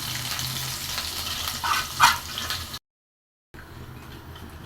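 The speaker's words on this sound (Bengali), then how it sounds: "এখন আমি পেঁয়াজ রসুন দিয়ে দিচ্ছি।" Onion and garlic sizzle in hot oil for a dal tempering, with a close, busy frying crackle and a couple of brief stirring scrapes, then a short gap of silence before a quieter sizzle resumes.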